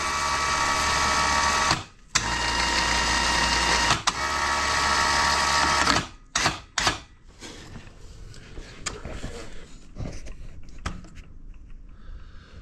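A four-wheeler winch runs loud and steady in short bursts with brief pauses, stops after about six seconds, and leaves a few clunks and rattles.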